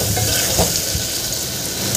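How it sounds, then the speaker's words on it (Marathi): Tomatoes with dry spices sautéing in a pan for a Maharashtrian sprouted moth bean usal, giving a steady, close, continuous sizzle and fry hiss with faint stirring scrapes, no voices. "यामध्ये टोमॅटो घालून घ्यायचे आहे. आता याला परतून घ्यायचं आहे छान."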